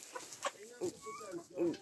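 A white hen in a farmyard gives a few soft, short clucks at close range, quiet and intermittent.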